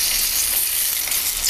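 Garlic and ginger frying in a pan until slightly brown, giving a steady, close hiss of sizzling oil with no voices.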